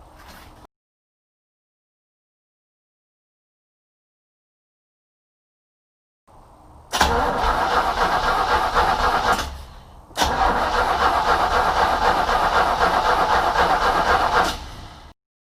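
Engine of a 1951 Willys Wagon being fired over with fuel fed at the carburetor: a short crank after quiet, then a loud, steady running roar that briefly drops and resumes before cutting off.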